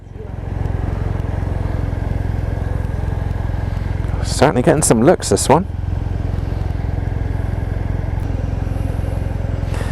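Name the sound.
2019 Kawasaki W800 motorcycle engine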